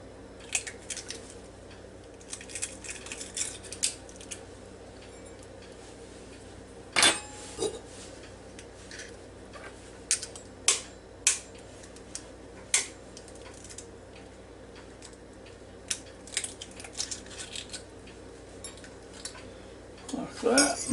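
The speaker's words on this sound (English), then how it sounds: "break these eggs here and put them in this bowl" Eggs cracked one by one and dropped into a bowl for an omelet in a Ninja Foodi, sparse sharp taps and clicks scattered over a quiet room tone, with a brief louder knock near the middle.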